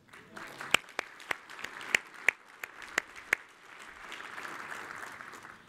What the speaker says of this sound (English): So I think that deserves an applause.